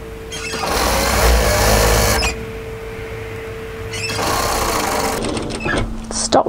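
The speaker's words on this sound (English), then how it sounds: "we want to sew down the side seam, remembering to match the notch part way down" A sewing machine runs down the side seam of a cropped tailored knit military jacket in two sustained close bursts separated by a short pause, then stops with a few clicks as the fabric is adjusted.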